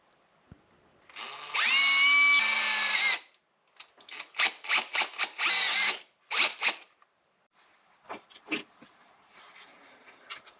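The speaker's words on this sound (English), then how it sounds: "I drilled 2 holes through the welded tab." A power drill bores holes through a welded metal tab, one sustained whine followed by a series of short bursts and a few faint later pulses, close and fairly loud with silence between.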